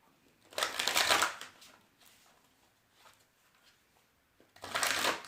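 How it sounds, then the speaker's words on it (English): Tarot cards shuffled on a lap, giving two soft riffling bursts at the start and end with faint rustling between, close and quiet, with no talking. "I'm shuffling on my lap because of all the cards that are on the table"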